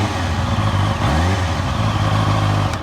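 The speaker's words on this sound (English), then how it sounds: "so the noise the exhaust makes is quite nice" A 2022 Honda CB650R Neo Sports Café motorcycle exhaust gives a close, steady, throaty engine drone. Its pitch dips briefly and then climbs about a second in before settling back into a smooth, even note.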